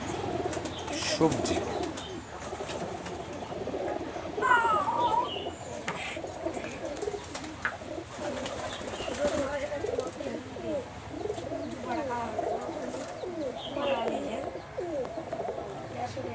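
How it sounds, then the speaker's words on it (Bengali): High-flyer Giribaz pigeons coo softly in a loft, with a few chirps and light wing movement mixed in, under close conversational talk. "যেটা সবুজ কবুতর দেখাচ্ছে আপনাদেরকে"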